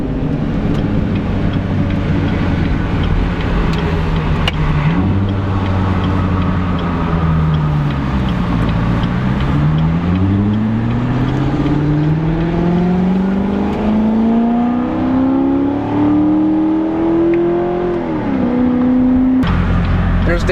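A proper American car drives a short distance at a car show, with a loud steady engine drone rising and falling in pitch as it accelerates and shifts, and talk over it.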